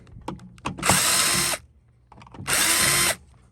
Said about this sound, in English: We have to remove a few more screws.